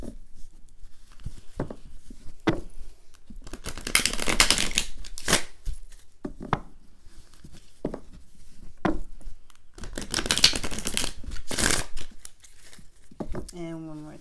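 Tarot cards shuffled during a love reading: repeated crisp riffling bursts of cards with soft rustling between them. A brief bend of the deck comes near the end, and the sound stays close and moderately loud.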